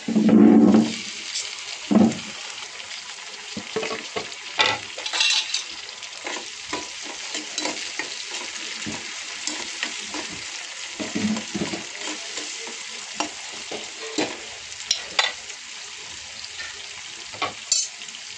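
Onion and tomato sizzle steadily in a hot pan for a prawn curry, with frequent scraping stirs and soft clatter close by and no voices.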